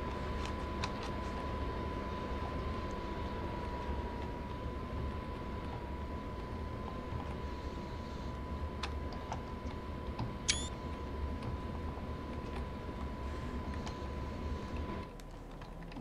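BR 155 electric locomotive hauling an empty freight train on the Ruhr-Sieg-Nord line in winter in Train Sim World 2, a steady low rumble and hum with a constant tonal whine and occasional clicks, heard alone without talk.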